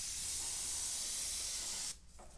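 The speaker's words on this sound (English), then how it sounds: "Let's put one right over the middle, a white stripe, and let's come in with the airbrush" An airbrush sprays white paint in a stripe as a steady, close hiss that runs for about two seconds and then cuts off into a quieter background.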